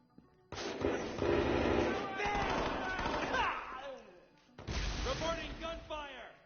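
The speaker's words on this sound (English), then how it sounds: "Reporting gunfire!" Gunfire in the video game Watch Dogs 2: bursts of rapid shots and booming impacts in two loud runs separated by a short gap, mixed with shouting voices.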